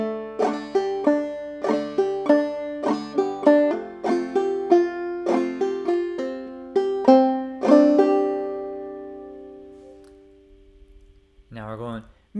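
A clawhammer banjo picks a melody, bright plucked notes in a lilting rhythm ringing out to a final sustained chord, followed by a brief spoken voice.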